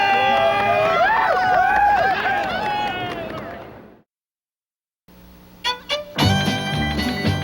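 A crowd cheers and shouts for the winner of the 1985 Coors International Bicycle Classic road race, a loud mass of voices for about four seconds that cuts off abruptly, followed by silence and then separate sharp sounds.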